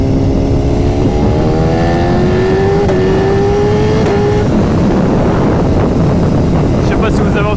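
A 2013 BMW S1000RR accelerates with rising engine whine under heavy wind buffeting, the pitch climbing for a few seconds before the anti-wheelie control abruptly cuts the engine, leaving rushing wind noise.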